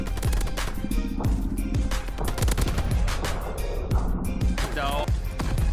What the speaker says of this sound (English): And everyone's blowing up.